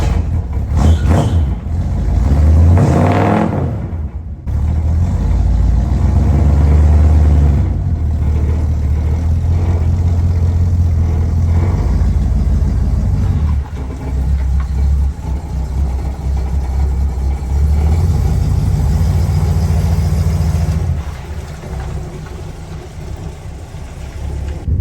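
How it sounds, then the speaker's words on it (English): Old 1970s pickup truck with a freshly rebuilt Dana 60 rear end out on a test drive, its engine droning steadily with a rumbling low hum, a short break and shifting revs, loud and close throughout. "it's time for a test drive to make sure the rear end works"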